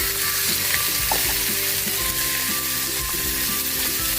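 Chicken wings fry in hot oil, giving a steady, loud sizzle and crackle that holds without a break, with faint soft clicks mixed in and no voices.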